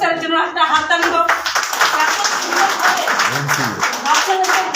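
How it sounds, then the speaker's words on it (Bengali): An audience at a Vestige business gathering claps for a speaker, with a burst of many hands clapping mixed with loud voices and talking throughout. "আমাদের অলোক স্যারের জন্য একটা হাততালি হোক।"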